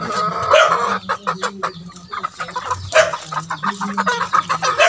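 Labuyo wild junglefowl cluck and chatter close by in a busy, overlapping flock, with short sharp calls and a brief crowing note mixed in.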